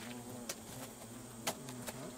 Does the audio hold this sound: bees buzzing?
yes